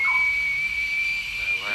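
A mud whelk cooking in its shell gives off a thin, steady high whistle, held clear and unbroken for a couple of seconds, close by.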